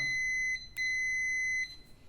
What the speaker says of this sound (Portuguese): Vou colocar meu multímetro na escala do BIP.